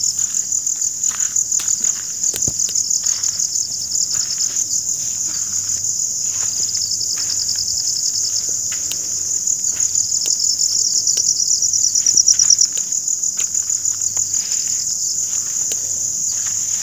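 Crickets and other insects chirp in a graveyard at night after rain, a dense high continuous trill with steady pulsing rhythm, close and loud throughout, with no talk.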